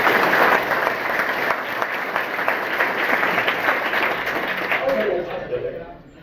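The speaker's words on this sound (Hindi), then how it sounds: "एक बार मैं चाहूंगा, अभी तक कितनी ताली बजी है उससे जबरदस्त ताली अपने अपने मां के लिए बजानी" Loud, sustained applause from an audience at a talk on genius, knowledge and science, steady dense clapping for about five seconds before thinning and fading out at the end.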